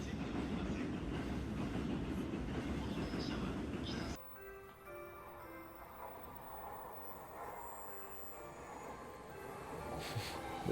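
A train moving through a station, with a loud rumbling rush for the first few seconds that cuts to quieter rail clatter and faint wheel squeal, and voices murmuring in the background.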